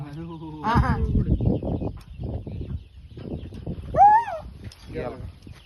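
Village chickens cluck and call briefly in a farmyard, with one short, sharp squawk standing out. Someone talks loudly over them for most of the time.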